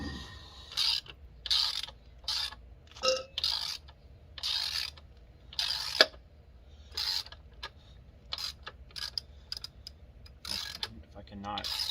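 Torx screw on a motorcycle being loosened with a T50 bit, giving a series of short, crisp ratcheting clicks in repeated bursts, close by, with quiet gaps between them.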